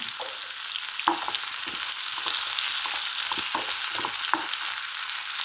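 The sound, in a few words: cumin and fennel seeds frying in oil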